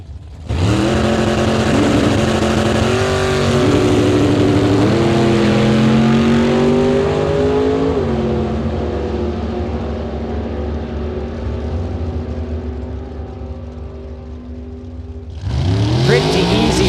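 A 1967 Chevy Nova and a 1962 Chevy II with a 350 engine launch in a drag race, engines roaring loud and rising through gear changes, then fading before another car blasts up nearby.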